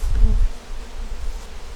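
Bees buzz in a brief low drone, close up, loudest at the start and then settling into a softer hum.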